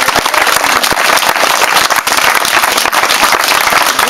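Audience applause at an outdoor village concert in Indemini, a dense, steady wash of many hands clapping close and loud throughout, with no talk over it.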